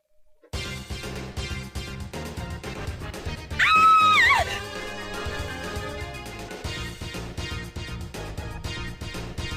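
A woman's scream in the PS1 role-playing game Thousand Arms rings out loud and brief over steady game music, rising sharply near the middle and then dropping back under the score.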